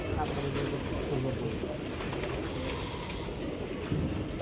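Soft, low cooing of female pigeons repeats over a noisy background, with a voice murmuring faintly underneath.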